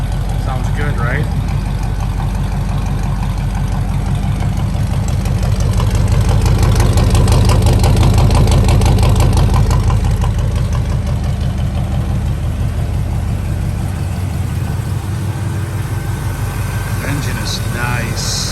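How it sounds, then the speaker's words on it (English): A 1972 Chevrolet Nova SS with a crate motor idles close by, with a loud, steady, throaty rumble that swells slightly midway, while people talk over it. "Engine is nice."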